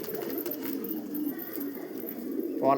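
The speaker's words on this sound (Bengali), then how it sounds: "এই একটা পায়রা আপনাদেরকে দেখাচ্ছি দেখুন খুবই ভালো কোয়ালিটি পায়রা" Pigeon cooing faintly amid low background hum, a soft brief coo rising near the end of a quiet stretch, with a voice talking nearby.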